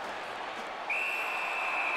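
A referee's whistle stopping play at a college ice hockey game, a single sustained shrill blast over arena crowd noise.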